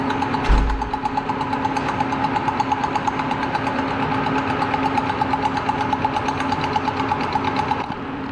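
Engine of a Deere 455E track loader with a knocking problem running steadily, a constant mid-pitched drone with a fast, regular tapping knock throughout, close and loud with no talk.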